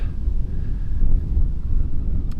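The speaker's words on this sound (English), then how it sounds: "it's very, very windy, so hopefully my external mic's making things a little bit bearable" Steady low rumbling buffets of wind hitting an external microphone beside an old cottage, continuous and fairly loud, with no voices.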